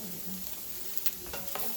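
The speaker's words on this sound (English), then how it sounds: "we're going to saute these onions until they're translucent" Onions sautéing in a pot for a beef and potato pot roast, a soft continuous sizzle with a few light stirring clicks, close and quiet.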